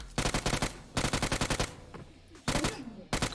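Loud bursts of rapid automatic gunfire in a shooter video game, about four separate volleys with short pauses between them, each a quick string of sharp shots; no voices.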